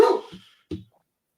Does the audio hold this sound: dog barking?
yes